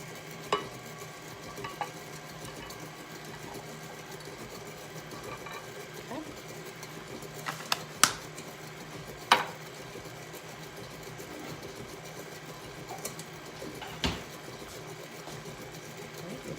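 An electric mixer beats carrot cake batter made with canola oil, a steady whirring motor hum with scattered clicks and knocks against the bowl, heard close and fairly quiet.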